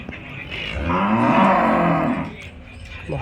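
Cows low at a cattle and bull market in Punganur, one long drawn-out moo swelling loud and close in the middle of the moment, with crowd noise and faint voices around it.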